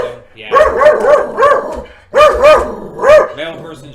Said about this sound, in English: I'm going to end this now because she's barking at some guy.